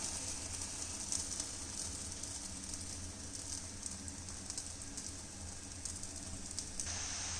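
Moroccan sfenj dough fries in hot oil in a pan, giving a steady, soft sizzle and faint crackle that holds evenly throughout at low level, with no talking.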